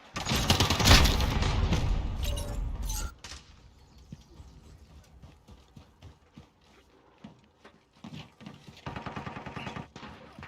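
In Call of Duty multiplayer, a flashbang grenade bursts in a loud, dense blast that lasts about three seconds and then drops to sparse clicks and thuds, with a smaller flurry of impacts near the end.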